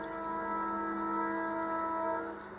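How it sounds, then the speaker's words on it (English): A sustained train horn sounds from a distance, a steady layered tone holding for a couple of seconds before fading slightly. "Do you hear that in the background? So that's the train."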